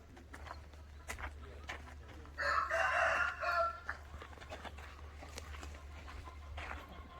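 Chickens cluck and a rooster crows in the middle, with scattered farmyard noises and faint background hum around them, on a farm in Subang.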